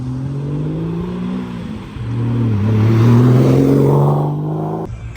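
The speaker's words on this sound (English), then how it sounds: "some cars pulling out, 993." Cars pull out from a classic Porsche meet, including a 993-generation 911, with a low engine drone rising as one accelerates away and a second engine note layered over it, fairly close by.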